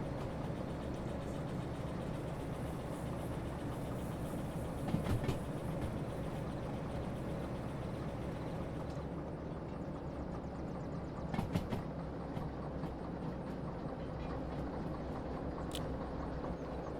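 A freight train rolls past a switch during shunting at a coal mine in the Derail Valley train simulator game, giving a steady low rumble of wagons with faint clicks and a couple of sharp clanks, no talking.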